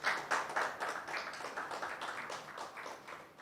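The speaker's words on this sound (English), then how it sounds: "another round of applause" A room full of people claps at a public forum, a fairly quiet, steady patter of many hands with no voices over it.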